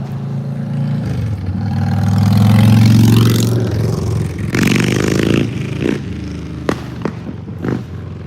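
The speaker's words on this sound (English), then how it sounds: "Watch the motorcycle." A motorcycle roars past close by, its engine note rising then fading, followed by a few sharp thumps.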